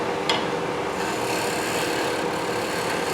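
Bowl gouge cutting wood on a lathe while turning a square oriental box: a continuous close scraping, rasping hiss over the steady drone of the spinning lathe, with no talk.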